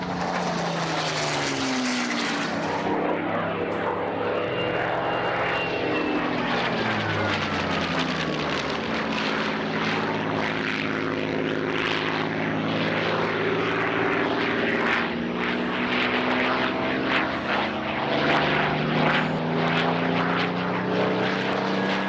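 A propeller airplane flies over a backyard, its engine drone loud and steady throughout with a sweeping rise and fall in pitch as it passes overhead.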